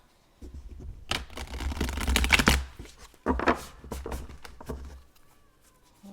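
A deck of tarot cards riffles and shuffles up close in two bursts of rapid crisp flutter, with a short pause between them and no voices.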